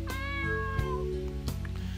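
A cat meows in the video game Another World, a few drawn-out, tonal mews standing clearly over a steady game background hum, with no talking.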